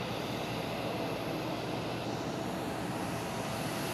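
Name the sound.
US presidential plane Air Force One landing in Cuba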